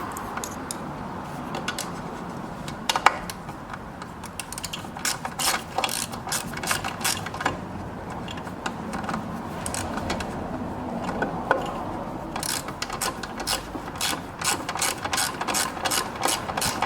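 A ratchet tightens a part on a 2005 Polaris Trail Blazer quad, with steady rapid clicking strokes running on and off, close and fairly loud, no talking.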